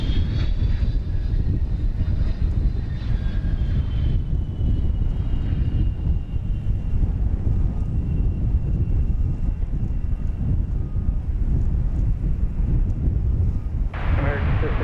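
Passenger plane at DFW Airport producing a steady, loud engine roar with a high whine that slowly glides downward, accompanied by constant wind buffeting and no voices.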